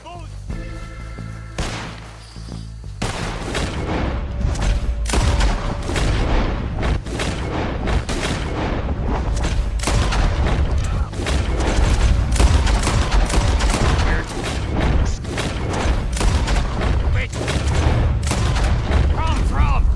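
In the Red Dead Redemption 2 battle against the Lemoyne Raiders, dense gunfire rattles continuously, with rapid loud shots and booming blasts layered over shouting voices for the full stretch.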